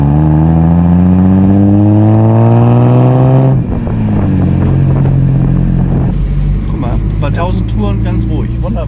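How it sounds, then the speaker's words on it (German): A 1958 Lancia Aurelia B20 GT with a six-cylinder engine, 112 hp, pulling hard through the gears with rising engine tone, a shift, then steady running, heard from inside the car with someone talking over it. "aber hat einen Sechszylindermotor"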